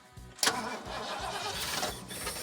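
A Chevrolet S-10 mini truck fed from a bottle of gas cranks briefly, then catches and starts, settling into a rough, steady running drone close by.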